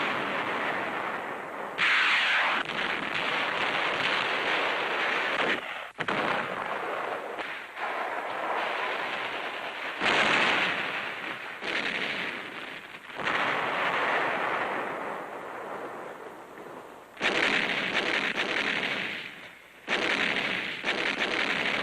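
Battle sounds as troops advance against Japanese delaying actions on the way to Manila: sustained gunfire and heavy artillery bursts roar in loud, dense waves, broken by short lulls, with no voices.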